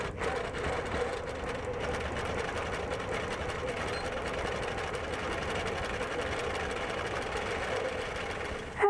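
A sewing machine basting a quilt top runs steadily at moderate volume, its continuous mechanical whir and rapid stitching rhythm unbroken for the whole stretch, with no voices.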